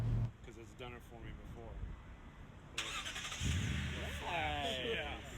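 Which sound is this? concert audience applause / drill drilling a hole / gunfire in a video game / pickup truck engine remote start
pickup truck engine remote start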